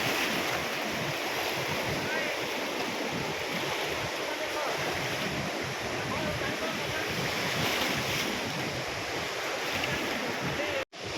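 Strong water rushes outdoors at a natural site, a loud continuous roar with wind buffeting the microphone, steady throughout and cutting off abruptly at the end.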